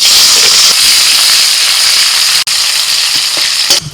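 Dry red chillies and chopped onion hit hot oil with a loud, close, rushing hiss and sizzle that holds steady, broken by one brief dropout and a small clatter near the end.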